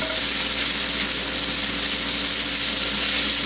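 Potatoes frying in a skillet for a sloppy joe potato dish, giving a steady, close, continuous sizzle and crackle with a faint background hum and no talking.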